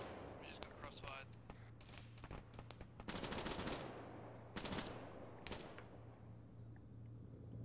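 Gunfire from a crossfire in the military game ARMA 3: rattling automatic bursts and sharp shots, some heavy and some distant, over a steady low hum with faint voices in the background.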